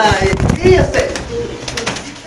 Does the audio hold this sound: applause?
no